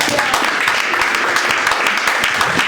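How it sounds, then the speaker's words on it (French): Church congregation applauding and cheering in praise during a worship service, a dense steady wash of many hands clapping throughout, loud and close, with faint voices mixed in. "Acclame très fort le Seigneur."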